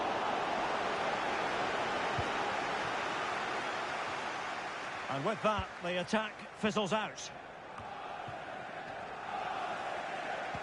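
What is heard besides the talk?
stadium crowd noise in a football video game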